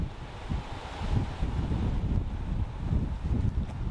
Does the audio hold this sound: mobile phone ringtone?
no